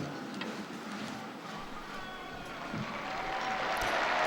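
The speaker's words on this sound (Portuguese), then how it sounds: "E os aplausos dos presentes na Praça São Pedro também" A large outdoor crowd in St. Peter's Square applauds in a dense, continuous wash of distant clapping that swells slightly toward the end.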